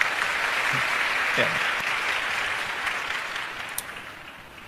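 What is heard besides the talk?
audience applause during religious lecture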